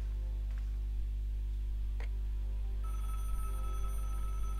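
A telephone rings during a phone call in the point-and-click adventure game Broken Sword (Director's Cut), with a steady electronic tone sounding faintly over a low background hum and no talk.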